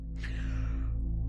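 An audiobook narrator voices Sherlock Holmes giving a single drawn-out, breathy yawn, close and fairly quiet over a low steady hum, fading out with no words.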